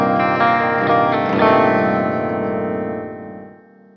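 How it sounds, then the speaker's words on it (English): A clean electric guitar chord through a Crate Blue Voodoo 120 amp's clean channel rings out with lush reverb, sustaining and slowly decaying into a soft tail. "Actually, the reverb sounds really nice on the clean channel."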